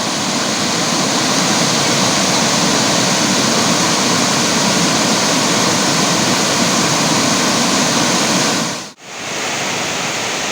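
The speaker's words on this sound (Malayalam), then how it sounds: "ഇവിടെ തടയണയുടെ അവിടെ എത്തിയിട്ട് വെള്ളം സ്പ്ലിറ്റ് ചെയ്തിട്ട് ഒഴുകണ ഭാഗമാണ് അപ്പോൾ നമ്മൾ കാണുന്നത്." Choriyankunnu waterfall spilling over a check dam, a steady, loud, close roar of rushing water that briefly drops out near the end before resuming.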